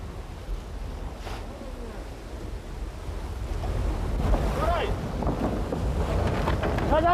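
Heavy sea waves surge and crash against a rocky fishing outcrop beside a boat, with steady wind rushing over the microphone and water sloshing, growing louder toward the end, with no voices.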